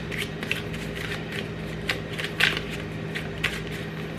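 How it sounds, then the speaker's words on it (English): A deck of cards is shuffled in quick, soft riffling bursts against a steady background hum, with no talking. "I was feeling it right as I was starting to shuffle the cards"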